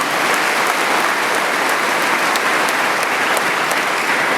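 An audience at a Sunday gathering of speeches claps in sustained, dense applause that fills the room steadily from start to finish with no speech over it.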